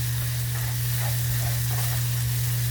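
Garlic sizzling with onions and shallots in a pan for chicken coconut curry makes a steady, fairly loud frying hiss over a constant low hum, with no voices.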